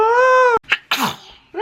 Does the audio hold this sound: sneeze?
yes